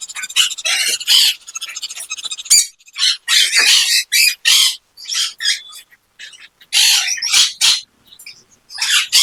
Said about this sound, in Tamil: ஸ்மால் கண்ணூர்ல இது பேர் கிரீன் சிக்குன்னுவாங்க.